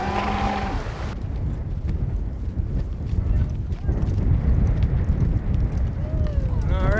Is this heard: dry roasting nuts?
no